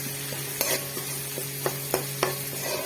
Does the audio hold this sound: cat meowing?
no